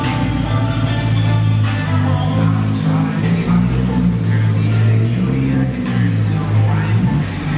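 A car with no muffler idles and revs in a loud, raw, throaty drone that rises and falls in steady pulses, close to the microphone, with people talking over it.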